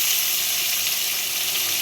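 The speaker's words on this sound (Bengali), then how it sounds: "পেঁয়াজগুলো একটু ফ্রাই হবে, তারপরে আমি মশলাগুলো দেবো।" Onions sizzle and hiss steadily in hot oil in a pan while a Bengali lote fish jhuro is being cooked, a continuous close frying sound with no voices.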